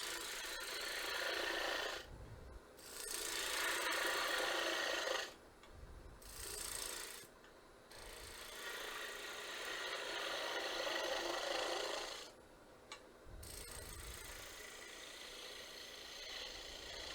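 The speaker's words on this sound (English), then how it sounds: "I am going to use a detail gouge." A detail gouge cutting wood on a spinning lathe makes a raspy, close shaving sound in several long passes, each broken by short pauses where the low motor hum carries on alone.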